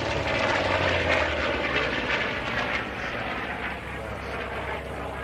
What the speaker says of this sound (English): Here comes a dive bomber.